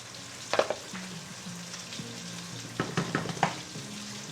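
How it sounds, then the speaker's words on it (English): Pasta tossed into a hot frying pan with asparagus, a soft sizzle throughout with a few clattering stirs and scrapes, no talking. "at this point we can add our pasta in"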